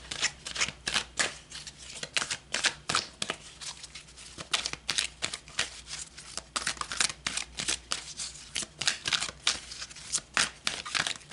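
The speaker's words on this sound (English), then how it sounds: "So let's pull a few more cards." Tarot cards are shuffled and pulled in a steady run of crisp riffling and flicking bursts, close and fairly loud, continuing throughout with no talk.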